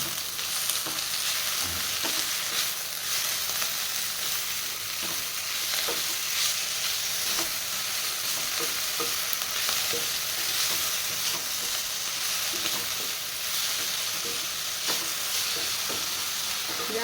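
Mint and onions fry in a pan, with a steady sizzle running throughout and repeated stirring scrapes and clicks of a utensil, close and fairly loud, with no talking.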